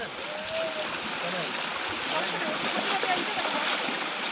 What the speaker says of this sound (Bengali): মারাত্মক স্রোত।